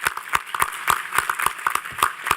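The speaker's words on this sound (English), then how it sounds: "Let's give them all a round of applause." An audience applauds veterans at a New York veterans and military families summit, a dense, steady round of clapping from many hands that fills the whole stretch.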